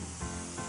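A spray gun lays finish onto a piece of furniture in a short, steady hiss that stays close and even for under a second.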